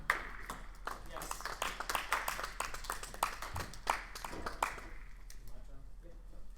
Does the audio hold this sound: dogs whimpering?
no